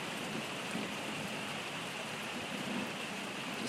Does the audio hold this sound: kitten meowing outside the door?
no